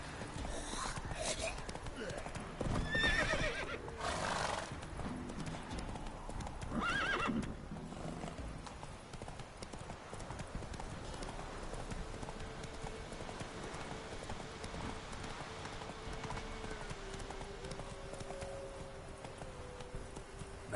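Roach, a horse in The Witcher 3 video game, gallops with rapid hoofbeats and lets out whinnies, with faint whispered voices and game ambience underneath.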